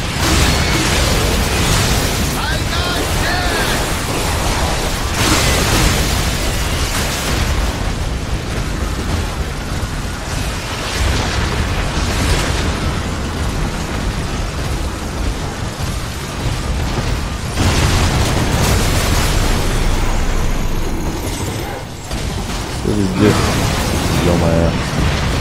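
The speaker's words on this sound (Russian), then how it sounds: "все везде взрывается, это идет в порядке вещей" Repeated booming explosions and crashing bursts from the Darksiders: Wrath of War video game fill a long, loud stretch, layered with mechanical clatter, while someone talks over the action.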